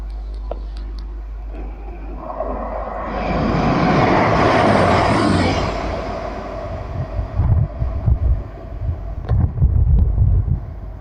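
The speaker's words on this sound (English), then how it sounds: "Next service pass through is a Trans-Pennine Express service to Newcastle from Manchester Airport." A Trans-Pennine Express train bound for Newcastle from Manchester Airport passes through Northallerton station: a broad roaring swell builds, peaks and fades, then gives way to lower rumbling and clattering as it runs through.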